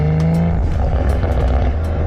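A tuned 500HP MHD Stage 2 BMW M340i accelerates hard, its engine roaring loud and close with rising harmonic pitch and a brief tonal whine near the start.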